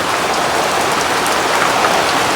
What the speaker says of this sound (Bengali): বৃষ্টি হচ্ছে দেখেন, একদম বৃষ্টি বৃষ্টি।